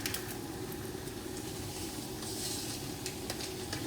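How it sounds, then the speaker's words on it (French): Onions frying in olive oil with a lump of brown sugar, giving a steady, close, even sizzle and hiss that stays constant throughout, with no talk. "Je mets de l'huile d'olive et un sucre pour les oignons."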